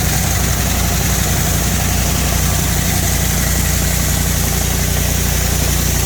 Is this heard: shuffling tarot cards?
no